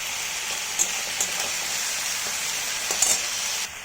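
Onion, ginger and garlic frying in a pan, a close, continuous crackling sizzle with a few brief spatters and light stirring taps, no talking.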